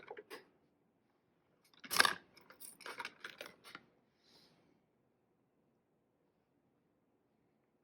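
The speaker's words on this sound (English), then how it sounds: "just cut a little strip from the scraps" Scissors snip a small strip from leftover scraps of non-toxic craft material, a quick cluster of crisp cuts mid-clip with faint handling rustle around it, close and quiet.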